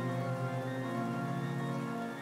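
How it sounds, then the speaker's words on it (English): Steady rainfall in the Hollow Knight video game, a dense even patter with a faint tonal background hum, moderately loud and unbroken, no voices. "Oh, the rain."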